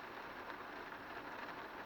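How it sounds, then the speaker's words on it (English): Rain drumming steadily on the fiberglass roof of a Volkswagen T2 van, a dense even patter heard from inside, fairly faint, with no talking. "that's the rain hitting off the fiberglass roof"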